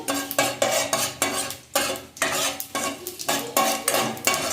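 Panch phoron tempering spices for tomato chutney sizzle in hot oil in a kadai, with repeated close scrapes and clinks of a spoon stirring in a busy rhythm.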